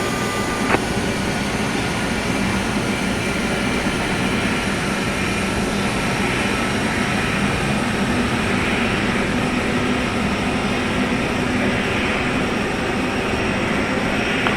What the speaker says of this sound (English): Pushback and engine start approved.